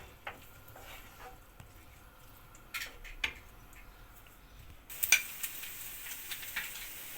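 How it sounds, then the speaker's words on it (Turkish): Onions sautéing in oil in a pan for menemen give a faint, soft sizzle, with occasional light clinks and scrapes of a utensil stirring, quiet and close. "şimdi soğanımızı biraz bu şekilde kavuracağız"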